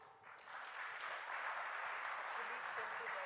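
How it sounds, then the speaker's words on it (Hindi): Audience applause at the Jaipur Literature Festival, a steady, fairly soft wash of clapping that swells after a brief start and holds evenly, with some talk beneath it. "मेरे साथ तालियां हो जाए"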